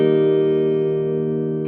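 A Jet JS 400 electric guitar on the neck pickup holds a chord with slight reverb, ringing steadily and slowly fading.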